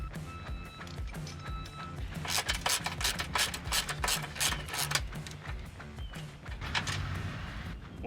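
A ratcheting tool loosens truck bumper bolts, giving rapid clicking bursts in quick repeated strokes, close and fairly loud over low background noise.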